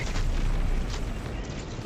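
A spaceship blown up in the Helldivers II video game, a continuous loud rumbling explosion with dense low boom and crackling debris that fades slightly toward the end.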